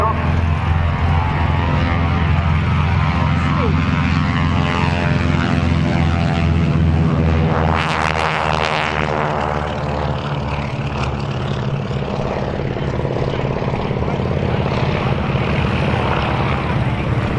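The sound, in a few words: Beech 18 propeller aircraft taking off at airshow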